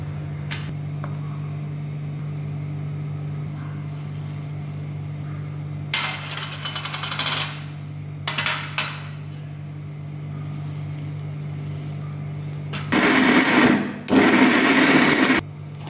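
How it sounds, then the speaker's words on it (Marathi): A mixer grinder grinding green chili masala whirs in several short bursts over a steady electric hum, the last bursts loudest and harshest as the blades spin. "आता आपण हे सर्व एकत्र मिक्सरच्या भांड्यामध्ये बारीक करून घेऊया"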